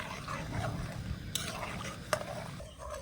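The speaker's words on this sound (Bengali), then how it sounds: "আর দিয়ে দিচ্ছি এখানে কিছুটা গুড় এবার ভালো করে মিশিয়ে নেব" Jaggery melts with grated coconut in a pan, stirred with a utensil that makes a soft, continuous scraping and rustling, quiet and close, with a couple of sharper taps against the pan.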